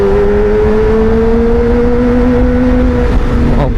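Motorcycle fitted with a Pro Speed Black Shark silencer riding along, a loud, steady exhaust drone held close with a slowly rising pitch, no talk.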